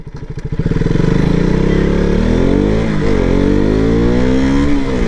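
A KTM RC200 BS4 motorcycle accelerates hard during a top speed run, its single-cylinder engine rising from a clattery start into a loud sustained rev with gear-shift dips, close and alone.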